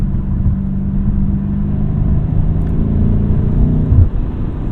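A 2021 BMW F90 M5 accelerating in fifth gear in manual mode, heard from inside as a steady, heavy low engine drone and road rumble that holds level, with no talk.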